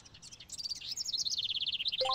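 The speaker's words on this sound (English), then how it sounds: "That's a bird." Video game bird in MegaMan Legends chirping in a rapid series of bright, high tweets, fairly close and clear, alone with no talk over it.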